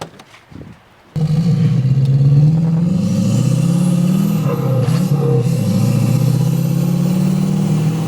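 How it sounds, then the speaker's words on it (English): A Jeep Wrangler swapped with a 6.6 Duramax diesel, running without an intercooler and sucking air, cranks briefly, then catches and settles into a loud, steady idle with slight rises in pitch, close by and with no voices. "let me see if I can get her started again"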